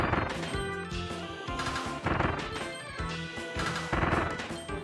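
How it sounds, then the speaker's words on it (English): Unbreakable cannons firing in Kirby and the Forgotten Land, a series of punchy blasts and crashes in quick succession over bright game music, loud and close, with no talk. "those are cannons that can't be broken."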